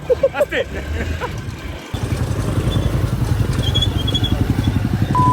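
A motor vehicle with faulty brakes and clutch rumbles along a road, its engine note steady and rough with rattling clatter, fairly close, after a brief lull near the start.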